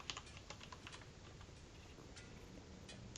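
Fingers typing on a computer keyboard, a quick, irregular run of close, crisp key clicks with steady room hiss behind and no voices.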